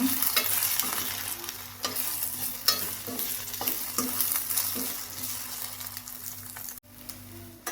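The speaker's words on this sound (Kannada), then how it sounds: "ನಾನು 2 ಮೊಟ್ಟೆ ಯೂಸ್ ಮಾಡ್ತಿದ್ದೀನಿ. ಇದನ್ನು ಸ್ವಲ್ಪ ಫ್ರೈ ಮಾಡ್ಕೊಂಡು" Two eggs frying with drumstick leaves in a pan over a gas flame, giving a steady close sizzle broken by repeated scraping stirs of a utensil against the pan, with no talk.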